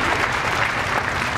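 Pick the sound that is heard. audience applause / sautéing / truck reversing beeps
audience applause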